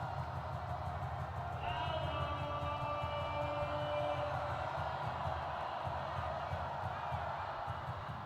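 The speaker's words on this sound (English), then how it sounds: "Crowd making their presence felt." Crowd noise in a basketball arena during an ASEAN Basketball League game between Saigon Heat and Westports Malaysia Dragons, a steady roar with rising cheers and shouts in the middle.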